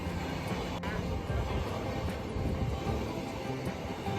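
A train arrives on railway tracks as a loud, continuous rumble and roar, close by and dense throughout.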